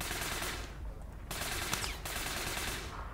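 Sustained automatic gunfire from the ATAC Watchman in APB Reloaded, dense and continuous for the whole stretch with a couple of brief breaks, loud and close with no talking over it.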